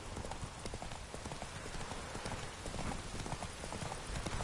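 Rapid, even clip-clop of horse hooves galloping in The Witcher 3, a continuous rhythmic drumming heard fairly close and alone.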